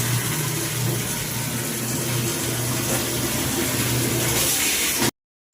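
A strong, constant rush of municipal supply water pouring from a pipe, loud and close, running for several seconds before cutting off abruptly.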